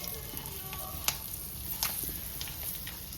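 Ground cardamom, clove and cinnamon powder fry in hot oil, a soft, quiet sizzle with a few brief pops and crackles scattered through it.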